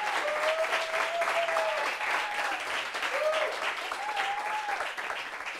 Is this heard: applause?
yes